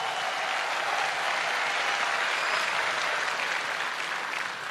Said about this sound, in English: So please, Kenyans, applaud your president,